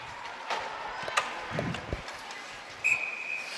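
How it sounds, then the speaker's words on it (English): A referee's whistle at a girls' high school ice hockey game sounds in a couple of short, shrill bursts, the clearest near the end, over faint arena crowd noise and scattered thumps. "And the whistle blown"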